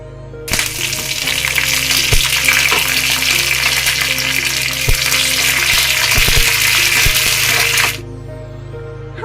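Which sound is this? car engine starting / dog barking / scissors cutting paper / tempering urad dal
tempering urad dal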